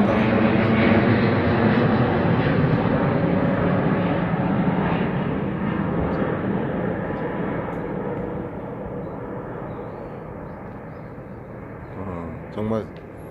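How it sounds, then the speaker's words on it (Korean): A low-flying airplane passes directly overhead a countryside garden in Aewol, Jeju, its broad engine roar loud at first and slowly fading, with a voice speaking over it. "바로 위에 비행기가 지나가네요."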